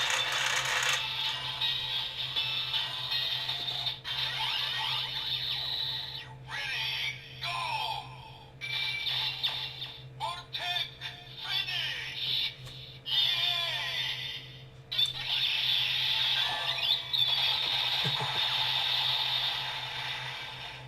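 A Kamen Rider Build Driver toy belt being cranked, giving a busy, continuous stretch of bright electronic toy sound effects and clicking, fairly loud and steady with brief dips, with no talking.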